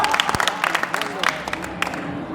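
Audience applause fills the hall at a kavi sammelan poetry recital during the Prayagraj Mahakumbh, a dense, steady patter of clapping with crowd noise and voices mixed in throughout.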